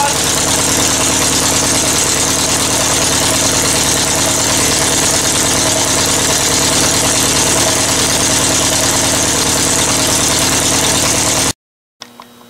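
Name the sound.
VW 1600 dual port engine idling after cold start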